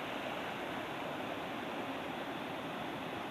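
Water flowing in a canal toward the Pa Sak Dam roars steadily in a constant, even rush with no other sounds.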